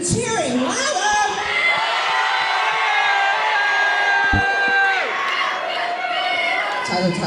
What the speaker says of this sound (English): No booing, cheering, louder!